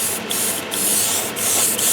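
Spray paint hisses onto an Airfix 1/72 Vulcan scale model in loud, close, continuous bursts with brief pauses as the nozzle is released.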